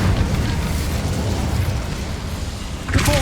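The Incendio fire spell from the game Hogwarts Legacy erupts in a loud, sustained fiery roar with heavy low rumble, easing slightly before a fresh sharp burst flares near the end.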